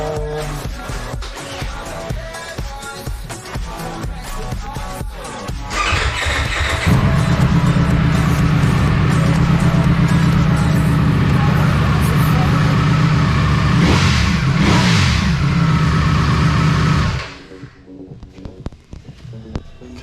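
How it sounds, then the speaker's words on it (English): A 2022 Ducati Panigale V4 motorcycle on its standard exhaust revs up loudly and holds a sustained high-rpm roar for about ten seconds, then drops off abruptly, with brief talk before. "let's just see how the standard exhaust sounds."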